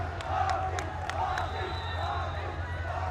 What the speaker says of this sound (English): Crowd fired up for the work that he's putting in.